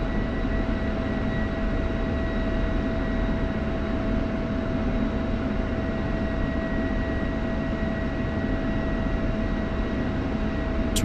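An F-16 jet taxis in a flight simulator game, a steady loud engine roar with a constant whine and low rumble that holds unchanged throughout, no voices.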